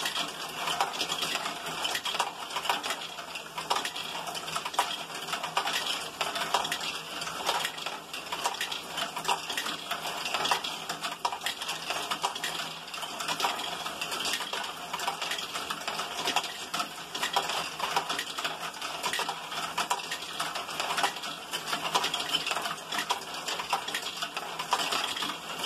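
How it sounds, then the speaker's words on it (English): A LEGO Great Ball Contraption loop of four modules runs with plastic balls, giving a steady, dense clatter of small rattling and clicking impacts that continues evenly throughout, with no talking. "that's the GBC loop"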